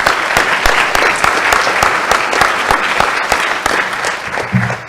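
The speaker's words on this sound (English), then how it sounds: "I think Mr. Zimmer deserves a big round of applause" Loud, full audience applause fills a school ceremony hall on the first day of upper school, a continuous wash of many hands clapping that tapers slightly near the end.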